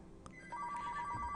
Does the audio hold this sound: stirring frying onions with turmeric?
no